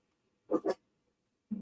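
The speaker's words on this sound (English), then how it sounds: "Sorry, my dogs are barking." Two quick dog barks close together, then a third cut off at the end, heard near and alone against a quiet background.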